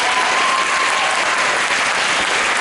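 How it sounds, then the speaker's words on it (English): Audience applause at a high school jazz ensemble concert, dense steady clapping filling the room, loud and continuous with no talk over it. "Give her a round of applause."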